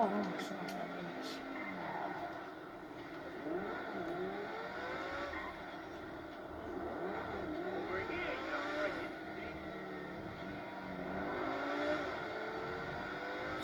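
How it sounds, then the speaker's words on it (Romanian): A car accelerating in GTA V while the city is terrorised with zombies: a steady engine drone rises and falls across the run, with a loud continuous roar and excited talk over the top. "Ce demaraj are!"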